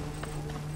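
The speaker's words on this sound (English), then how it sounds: "This must be Mered's horse." Horse hooves clop in the Assassin's Creed Origins video game, a couple of soft steps over a steady humming game ambience with a faint high tone.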